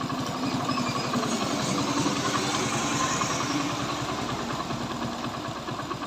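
A Honda Passion Pro motorcycle engine idles at low rpm, a steady, close, even putter with a regular pulsing rhythm that holds constant throughout with no speech over it.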